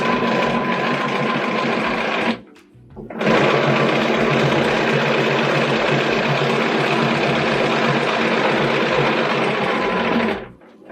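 A sewing machine quilting runs at a steady, loud, continuous whir, stopping briefly once for about a second before starting again and running until it cuts off near the end.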